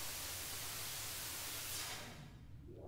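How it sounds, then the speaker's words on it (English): White noise from a synth riser in a techno set: a loud, steady broadband hiss that thins out toward the end as its high end is filtered away. "So let me just get white noise happening."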